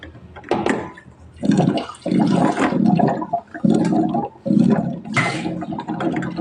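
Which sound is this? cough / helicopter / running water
running water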